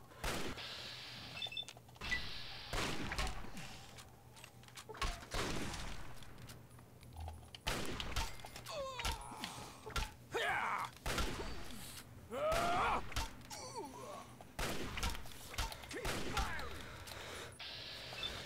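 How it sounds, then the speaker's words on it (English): Enemy gunfire in Fallout 3 rings out as scattered shots and short bursts, some close and sharp, others duller, spread irregularly across a busy combat scene with occasional clanks and grunting. "keep firing and missing till you die"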